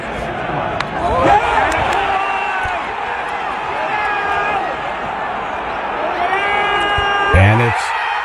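Baseball stadium crowd roaring after a home run, a sustained wash of cheering and whoops with shouted voices rising near the end, people talking close by over it.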